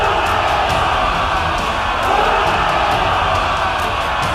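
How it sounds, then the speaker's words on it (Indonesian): A village crowd cheers for its new leader Troy, a steady, dense roar of many voices sustained throughout without pause. "Sorakan kembali membahana."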